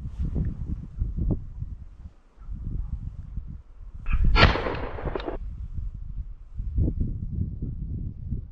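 A single sharp blast from a small .32 calibre gun, fired while hunting thrushes, bursts out midway through a low, rumbling outdoor background, with a brief crackling tail after it.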